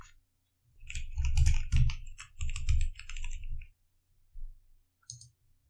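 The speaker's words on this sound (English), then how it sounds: "enter the username and password that you set during the installation and click Login" A username and password typed on a computer keyboard, bursts of rapid close clicks and key taps in several runs with short pauses, then a final isolated keystroke.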